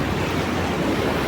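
The Arun river, largest tributary of the Sapta Koshi, rushes past in a steady broad roar of flowing water, loud and unbroken with no voices.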